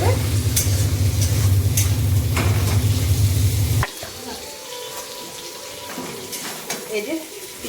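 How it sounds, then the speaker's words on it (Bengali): Onion and capsicum fry lightly in a pan, giving a loud, steady sizzle with stirring scrapes for about four seconds before it drops away to quieter kitchen sounds with faint clinks. "এই যে পেঁয়াজ ক্যাপসিকাম এগুলো হালকা করে আমি ভেজে নিলাম"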